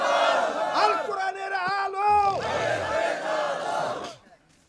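A rally crowd roars a takbir chant of Allahu Akbar in unison at a political gathering in Bangladesh, loud massed voices swelling together for several seconds before cutting off abruptly.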